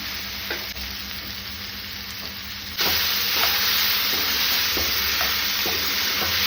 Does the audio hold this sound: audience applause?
no